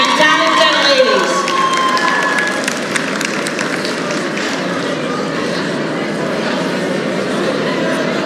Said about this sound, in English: Can we have a round of applause for these beautiful and talented ladies?